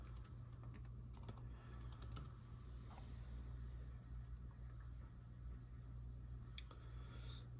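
Quick keystrokes tapped on a computer keyboard while entering a password, a short burst of clicks near the start and a couple more later, over a steady low hum from the machine.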